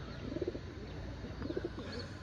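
Two soft coos from pigeons perched on a loft perch, one near the start and another about a second later, low and rounded against a faint background hum.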